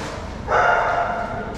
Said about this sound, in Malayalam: Siberian husky